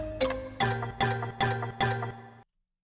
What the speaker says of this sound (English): That ticking clock sample in the background.